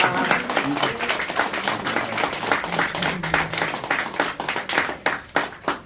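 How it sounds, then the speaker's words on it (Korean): A church congregation claps loudly at a worship service installing a new president of a global revivalist association, a steady, dense burst of hand claps filling the room with scattered louder individual claps. "앞으로 수고 많이 해주시라고 크게 박수 쳐주시기 바랍니다."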